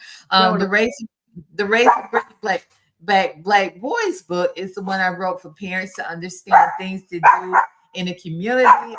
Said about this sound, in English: I'm so sorry for my dog.